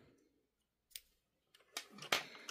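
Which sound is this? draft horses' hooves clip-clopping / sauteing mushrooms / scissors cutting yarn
scissors cutting yarn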